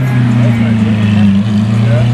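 A Lamborghini SV car rolls past at close range, a loud, deep, steady engine drone with strong low harmonics, and excited voices talking over it.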